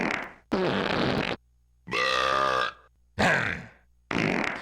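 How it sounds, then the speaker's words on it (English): A set of cartoonish fart and burp sound effects from the Rampage: Total Destruction video game loading screen, four separate loud bursts with brief silences between them, each noise a different wet or croaking tone. "that is a different fart and burp sound effect for each face button on the controller"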